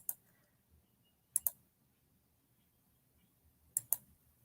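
Mouse clicks in the Sway presentation editor come as three crisp double-click pairs, one at the start and two more spaced a few seconds apart, close and clear over a quiet background.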